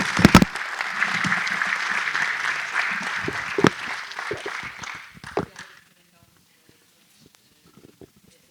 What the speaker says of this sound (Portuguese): E uma grande salva de palmas para os nossos candidatos.